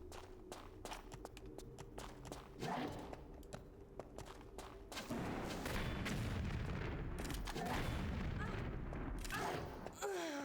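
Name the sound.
rocket launcher shots in Tomb Raider 3 Remastered video game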